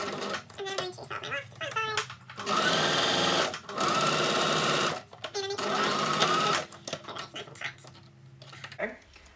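A sewing machine stitches in three sustained bursts along the last side of a sequin piece, with short pauses and some handling clicks in between. A voice talks quietly during the pauses.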